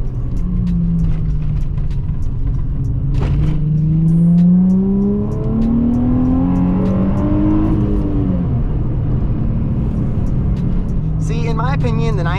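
A Nissan 350Z accelerating hard on a busy city street, its engine note rising steadily through the revs with a clear upward sweep, close and loud, and a short burst of faster revving near the end.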